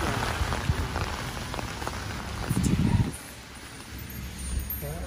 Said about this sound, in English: As you can see, it's raining and we just got to Rock Garden.